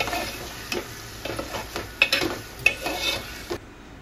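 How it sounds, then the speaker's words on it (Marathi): Prawns being stirred in a frying pan for an Agri-Koli style prawn fry, with scraping spoon strokes at irregular intervals over a steady soft sizzle, close up and with no talk. "कोलंबी ही चांगली मिक्स करून घेऊया"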